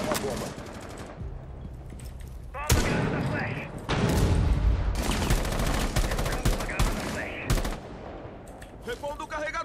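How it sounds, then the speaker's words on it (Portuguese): Gunfire in the video game Rainbow Six Siege, dense rapid automatic bursts and heavy booming shots, loud and continuous, with voices talking over the action. "não tô vendo o cara que tá mandando bala em mim"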